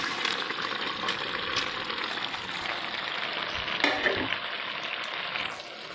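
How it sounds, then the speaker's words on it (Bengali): Prawns and fish fat from katla fish sizzling in hot oil in a pan, a continuous bright crackling hiss with a brief surge of spattering midway before it eases. "এরপর আমি চিংড়ি আর তেল পোঁটাটা দিয়ে দেবো।"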